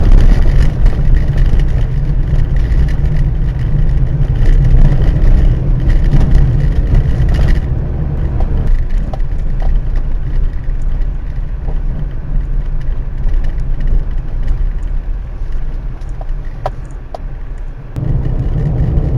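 A car drives along a highway road trip from Bangalore to Mantralayam, and its engine gives a loud, steady drone with road and tyre rumble. The noise holds throughout, with a slight dip in level near the end and no speech.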